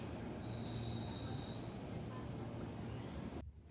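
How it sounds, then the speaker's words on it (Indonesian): A KRL commuter train comes into a station on the line toward Cikarang, its wheels squealing steadily with a high metallic whine over a continuous rumble. The noise then drops away sharply near the end. "sebentar lagi KRL yang akan membawa saya menuju stasiun Cikarang akan segera masuk"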